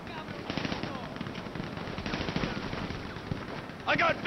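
Sniper gunfire from rooftops in the video game GTA V: a dense, continuous volley of gunshots rattles throughout, with a brief voice breaking in loudly at the end.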